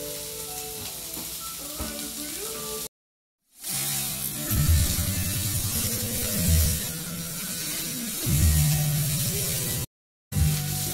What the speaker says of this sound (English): let's throw in our Brussels sprouts to our nice hot pan